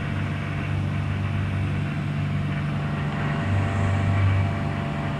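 A Sonex light aircraft cruises in flight, its engine and propeller giving a steady, even drone with a low hum throughout, moderately loud and unbroken.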